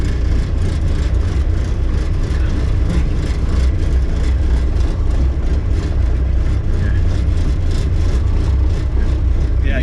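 A diesel right-hand-drive Jeep TJ Wrangler engine drives off-road, giving a loud, steady low rumble with continuous whirring and drivetrain noise throughout, with no speech over it.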